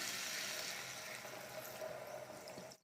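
Water poured steadily into a cooking pot of vegetables, a soft continuous splashing stream lasting nearly three seconds before cutting off, faint and close with no talking.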